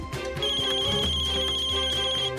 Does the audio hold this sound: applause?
no